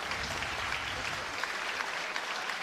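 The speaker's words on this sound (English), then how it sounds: "Big round of applause, please, for both fighters in our first contest this evening" An audience at a live combat-sports event applauds both fighters after a first-round armbar submission, a steady, continuous wash of clapping heard from a distance with no voices over it.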